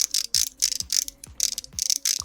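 A Zowie EC1 gaming mouse scroll wheel clicks in quick, notched bursts, several rapid ratcheting ticks at a time with short pauses, close and fairly quiet.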